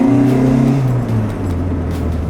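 A manual Honda Civic accelerates hard on a test drive, its engine note rising and falling through gear changes as a loud, steady interior rumble with no talking.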